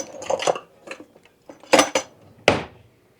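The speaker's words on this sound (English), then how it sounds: "get me out another little baby spatula." Kitchen utensils clink and rattle in short separate bursts while a small spatula is pulled out from among them, a few sharp metallic clatters close by with quiet gaps and no talking.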